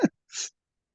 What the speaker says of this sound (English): we do sneeze from time to time